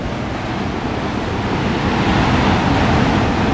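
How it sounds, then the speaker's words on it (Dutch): Storm waves crashing on a shore, a loud continuous roar of surf with wind, swelling slightly toward the end and heard alone without voices. "Check even die golven, joh."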